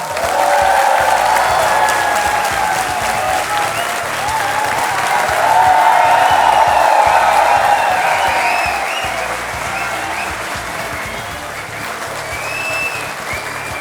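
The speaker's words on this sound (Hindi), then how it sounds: "और ये तालियां इसी तरह बजती रहें" Studio audience applause on a televised courtroom-style talk show, a loud, dense, sustained wave of clapping with some crowd cheering that swells and then eases slightly toward the end.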